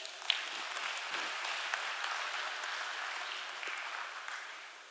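Conference attendees at a Poultry India industry event clap together, a dense even wash of applause that stays level and then tapers off slightly toward the end.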